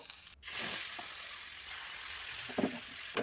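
Food sizzles steadily in a little oil in a pan as a rice and chana dal breakfast snack fries piece by piece, a continuous hiss broken by a sharp clank near the start and a couple of soft stirring scrapes.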